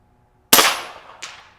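An FX Maverick VP air rifle fires once at a 100-yard target outdoors, a sharp close crack with a quick decaying tail, followed a moment later by a fainter distant impact tick.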